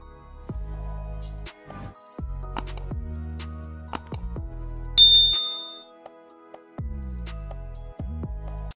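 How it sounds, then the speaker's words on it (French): A series of bright electronic dings and chimes, several ringing tones struck in sequence with decaying tails, one sharper high ping midway, clean and close with no voices. "n'oubliez pas de vous abonner et d'activer la cloche de notification"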